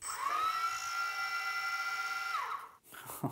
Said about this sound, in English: Turn it on and start up the motors.